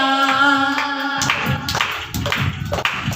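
A congregation claps along during a Hindi worship song, starting after a sustained sung or instrumental tone fades; the claps come in a quick, uneven rhythm, fairly loud and near.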